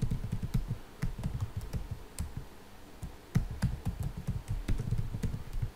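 Quiet, close keystrokes on a computer keyboard as a password is entered, irregular clusters of soft taps and clicks with brief pauses between bursts.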